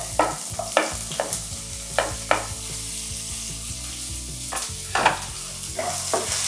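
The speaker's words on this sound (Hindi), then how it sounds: "अब हमें इसे अच्छे से फ्राई हो लेना है" Onions fry in a pan with a soft sizzle beneath repeated sharp scrapes of a spatula, the stirring strokes coming every second or so, close and fairly loud.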